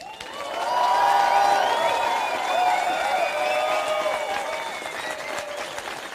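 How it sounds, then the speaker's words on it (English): A crowd applauds at Nike's sub-two-hour marathon attempt, swelling quickly into sustained clapping with a few cheers, then holding steady before easing slightly. "give him a round of applause again"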